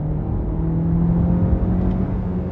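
A Kia Sportage LPi (LPG) engine hums and revs steadily under throttle, with a continuous low drone close inside the cabin and no talk.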